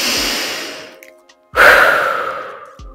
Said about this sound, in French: Prenez une bonne respiration pour vous mobiliser en soufflant fortement par la bouche.